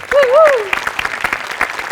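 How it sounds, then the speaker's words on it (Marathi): An audience claps loudly and densely in a theatre during a Marathi comedy stage show, with a voice whooping over the opening of the applause. "गोस्वामींसाठी आणि प्रथमेशसाठी भयंकर टाळ्या."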